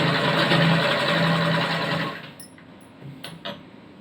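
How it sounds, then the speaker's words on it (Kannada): A sewing machine stitches a chudi slip cloth at a tailoring class, joining the shoulder seam. It runs as a steady close whir for about two seconds, then stops, leaving a few faint clicks. "ಆ ಬಟ್ಟೆ ಸ್ಟಿಚಿಂಗ್ ಮಾಡ್ತಾ ಇದ್ದೀನಿ"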